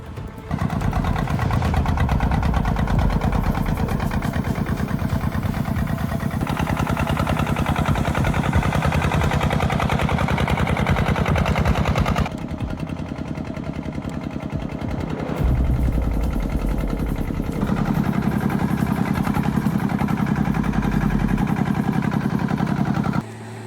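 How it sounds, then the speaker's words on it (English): Komatsu D51 bulldozer, a machine of over 13 tons, straining as it uproots a massive tree: a loud, steady diesel engine roar that shifts in load and pitch, with no talking over it. "Uprooting a massive tree is never an easy task. The Komatsu D51,"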